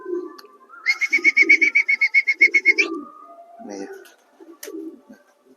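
Racing pigeons coo in a clear rapid run of pulsing calls on a rooftop, close by, followed by faint scattered sounds and a person speaking briefly.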